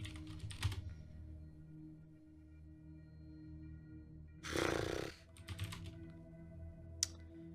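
Keyboard typing in The Infectious Madness of Doctor Dekker, a video game, sounds as quiet clicks over a low hum, with a louder burst of rustling in the middle and a sharp click near the end.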